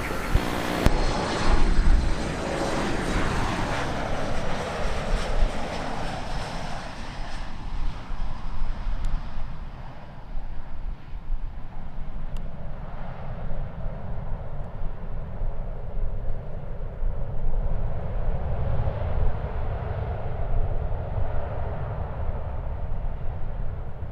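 An airliner lands at a reopened airport in Jamaica. The loud jet roar sweeps past early on, then settles into a sustained rumble of rollout and reverse thrust that slowly fades.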